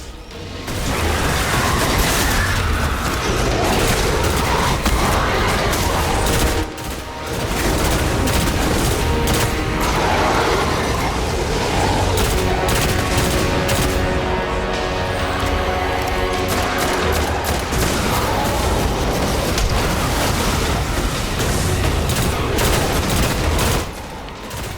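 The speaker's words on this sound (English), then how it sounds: "Oh, this is a pulse rifle" Pulse rifle fire in Destiny: The Taken King, loud rapid bursts repeating almost continuously amid booms and dense battle noise, with brief pauses between volleys.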